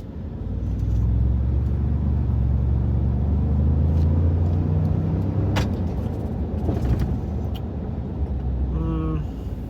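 A Ford F150 3.5L EcoBoost Tremor pickup with a performance tune accelerates, its engine giving a loud, steady low rumble from inside the cab as someone talks over it.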